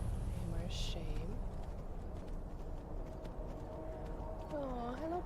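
Horse hooves in Skyrim clip-clop faintly in a steady rhythm beneath game ambience, with someone talking over it.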